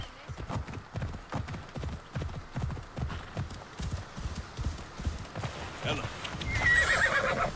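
Rapid rhythmic hoofbeats of a galloping horse in Assassin's Creed Odyssey pound steadily, joined by a loud neigh near the end, with a voice speaking underneath.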